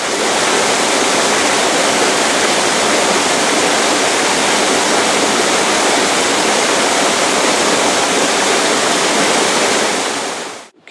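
Water pours over a dam on a river in Malinowo, a loud, constant roar of rushing water with a broad, even rumble that holds steady throughout before dropping off abruptly at the very end.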